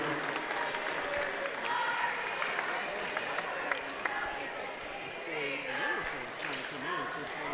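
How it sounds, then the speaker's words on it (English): High school basketball crowd in a gym applauding as a substitute checks in, steady clapping mixed with crowd murmur and a commentator talking over it. "That Levin's going to come in for Giesler, so he gets a hand from the Jasper crowd."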